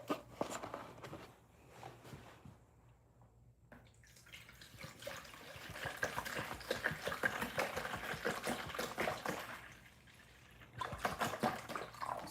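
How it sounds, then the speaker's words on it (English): Water pours from a bucket during silver casting, a rushing, splashing stream that starts and stops in bursts, with no talk. "Pour some water."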